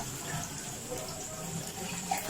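Water pours and splashes steadily as boiled rice is drained through a strainer during kitchen cooking, a continuous rushing wash of sound with no speech.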